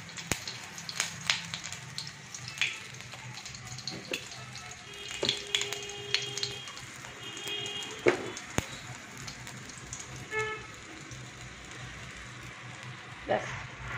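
Whole spices for tempering splutter in hot oil, a faint, continuous crackle with scattered pops and clinks, quiet throughout.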